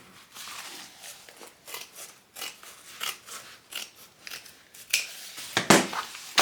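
Scissors snip through fabric to trim a seam allowance, producing a steady run of close, crisp cuts that grow louder and sharper toward the end, with no talking.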